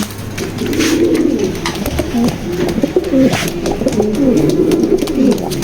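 Racing pigeons in a loft coo in low, repeated throaty rolls, close and fairly loud, with steady background noise.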